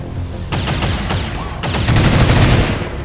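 Heavy gunfire in XCOM 2 Long War 2, close and loud bursts of rapid automatic shots in two volleys, the second denser and sustained.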